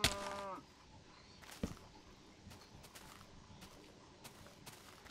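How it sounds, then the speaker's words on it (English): A cow in Minecraft lets out a loud moo at the start, followed by quieter game sounds and faint clicks in the background. "Look at all the cows."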